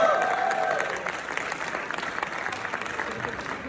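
At a fintech startup award ceremony, the crowd claps for a banking team, a steady roomful of applause that starts fuller and thins gradually to scattered hands.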